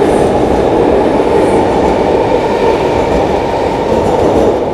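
A long metro train rumbles past at close range, a loud, steady roar of wheels on rail that fills the whole stretch without a break.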